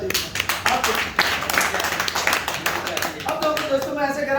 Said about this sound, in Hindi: आप ताली बजा दीजिए।